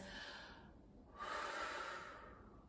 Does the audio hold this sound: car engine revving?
no